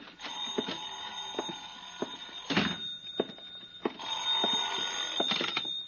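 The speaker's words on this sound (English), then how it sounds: "I think that's my phone." In an old-time radio detective drama, a telephone rings with a bright, repeating electric bell in bursts across several seconds. The sound is moderately loud and carries a faint hum of studio background.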